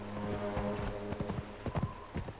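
Horse hooves galloping in the video game Conan Exiles, a rapid, close clip-clop rhythm of hoofbeats pounding steadily over about two and a half seconds.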